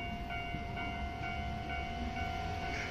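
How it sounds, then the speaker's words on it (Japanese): A train pulls into JR Uozumi Station during the morning rush, a steady, moderately distant rumble laced with high whining tones that holds for the whole moment, with no voices. "と来たらまた電車が来ました。"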